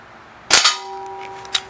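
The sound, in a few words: Crosman 1377 .177 pellet pistol shot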